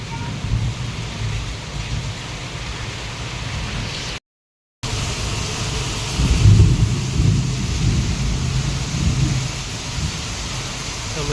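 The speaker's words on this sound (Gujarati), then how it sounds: "જોરદાર વીજળી પડી રહી છે. વીજળી કડાકા ભડાકા સાથે અવાજ આવે છે." A heavy thunderstorm over Amreli, with loud rolling thunder and dense rain in a constant roar, briefly cut to silence before swelling louder again, with no talking.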